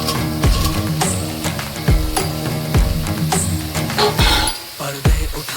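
Pre-fried potatoes go into a sizzling chana masala and get stirred, a loud close sizzle broken by repeated scraping strokes of a spoon against the pan at a steady rhythm.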